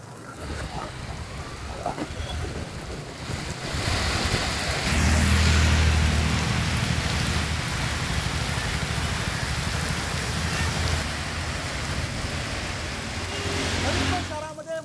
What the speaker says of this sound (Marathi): मुसळधार पावसाला सुरुवात झालेली आहे।